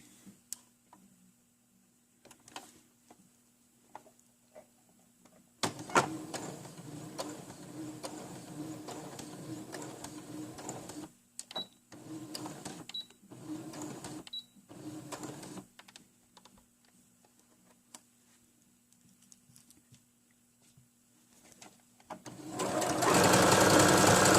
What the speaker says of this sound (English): Let's put a straight stitch right below the edge of the pant.